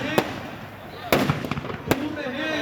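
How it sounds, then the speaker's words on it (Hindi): Fireworks at a Ravan Dahan event in the Seth Motilal College stadium in Jhunjhunu: three sharp, loud bangs at uneven intervals over a steady crowd murmur, with voices talking nearby. "ये आतिशबाजी है"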